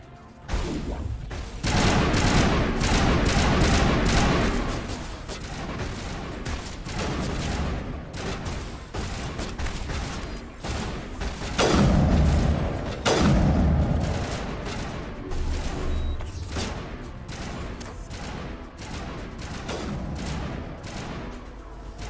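Video game gunfire from Mass Effect Legendary Edition, dense bursts of shots and booming impacts rolling almost continuously, loud and close, with heavier blasts around the middle and no talk.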